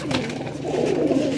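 Pigeons coo softly and steadily in a loft, a low throaty burbling that runs continuously at moderate distance with no talk over it.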